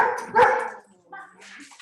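Puppies yapping and barking in quick, close bursts with whimpery tones, mixed with people's voices in a lively group setting.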